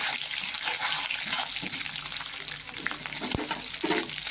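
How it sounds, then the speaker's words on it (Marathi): Green chilies sautéing in a pan over low heat, with a loud, bright, continuous sizzle and splatter close up and a few stirring knocks mixed in. "आता याच्यात टाकू आपण हिरवी मिरची चांगलं ह्याला परतून घेऊ"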